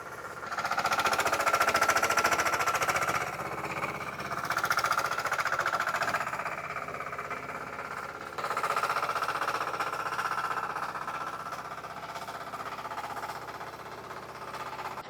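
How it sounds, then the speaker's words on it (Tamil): A small home-built mini excavator (JCB type) running with no driver through a busy town, giving a close, loud, steady rattling engine chatter that swells and eases in several long stretches. "ഇത് ആരുമില്ലാതെ തനിയെ ഒരു JCB ഓടിക്കൊണ്ടിരിക്കുകയാണ്."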